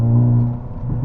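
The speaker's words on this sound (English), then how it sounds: "That's gonna give you all the snaps, crackles, and pops, especially when you have the car in N mode like I do now." A Hyundai Elantra N in N mode rumbles through its variable exhaust with twin large tailpipes, giving a loud, steady, deep idle drone that dips briefly midway before swelling again.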